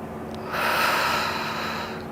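A single audible inhale through the nose during a pelvic floor exercise swells up after a short quiet moment, close and clear, and fades over about a second and a half.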